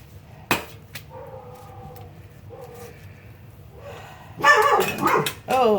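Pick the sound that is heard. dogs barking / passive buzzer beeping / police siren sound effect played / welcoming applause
dogs barking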